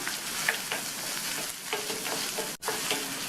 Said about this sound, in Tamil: கூடவே ஒரு மீடியம் சைஸ் வெங்காயத்தை கட் பண்ணி சேர்த்துட்டு இதை லைட்டாக வதக்கி விட்டுக்கணும்.